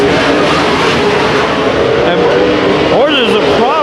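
Race cars roar through a heat race at Antioch Speedway, a loud continuous engine drone with a car's pitch sweeping up and down near the end, heard from the track side.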